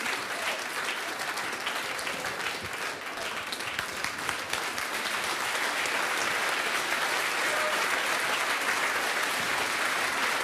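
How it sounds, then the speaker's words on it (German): Sustained applause from a Swiss television studio audience for three farm-women cooks after the main-course round of a cooking competition finale, dense and steady throughout with no voices. "Und das ist der Applaus für Ramona und Sibylle und Anni."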